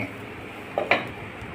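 A spinach dhirde is flipped in a pan and covered with a lid, giving a faint scrape and then two quick metallic clinks over a soft, steady background hiss.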